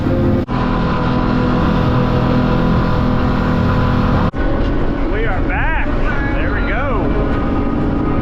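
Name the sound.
fishing boat motoring back over flat water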